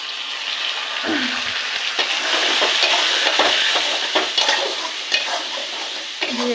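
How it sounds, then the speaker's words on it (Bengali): Spice paste with salt, turmeric, cumin, chilli and coriander powder being stir-fried with fried potatoes in a pan: a loud, continuous sizzle broken by repeated scraping stirs of a spatula. "এটাকে একটু ভেজে নেব"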